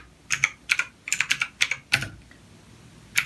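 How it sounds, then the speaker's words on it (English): Short bursts of keystrokes on a computer keyboard, typed at a command prompt while flashing an ATI Radeon HD 5870 graphics card for a Mac Pro, with brisk uneven clacks and short pauses, close and clear with no voices. "you're going to want to type in ATI Win or ATI Flash"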